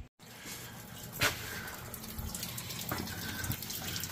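Water drains through the cleaning fan of a combine harvester, a steady soft splashing trickle with a faint gush near the start, continuous and low in level with no talk.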